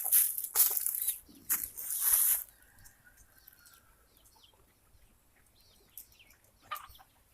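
Newly hatched baby chicks from an incubator are heard, starting with a loud, dense burst of shrill peeping and cheeping that drops after a couple of seconds to quieter, scattered chirps.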